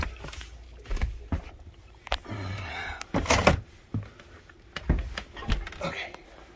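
A door in an old house opens with knocks and thumps leading to the upstairs second floor, close and irregular, with a few sharper bangs amid quieter shuffling.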